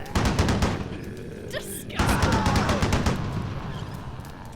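Machine gun sound effect samples fire in rapid bursts of loud, close rattling shots, with a short break before another burst that trails off, and a voice talking underneath.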